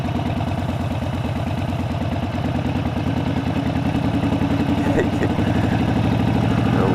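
A Harley-Davidson Sportster 72 motorcycle engine idles steadily up close, a loud, even, throbbing rumble that holds throughout.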